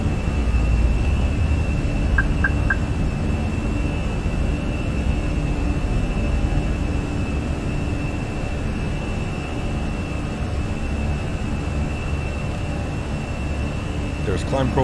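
Fenix A320 airliner climbing after takeoff in Microsoft Flight Simulator, a loud, steady jet engine roar with a constant broadband rush and a faint high whine throughout, no pauses.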